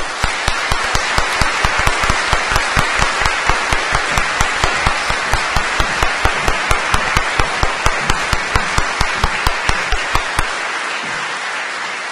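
A gala audience at a literary award ceremony claps in a steady, rhythmic unison beat, loud and sustained for about ten seconds before stopping abruptly.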